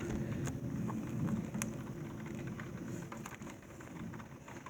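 Heavy rain falls in a thunderstorm over a flooded garden, giving a dense, continuous hiss with scattered sharper drops, fairly faint and steady, with no clear thunder.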